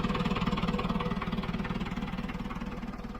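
An old '95 model tractor engine runs close by, throbbing in a fast, even pulse of rough knocking beats that stays steady and loud throughout, with no talking.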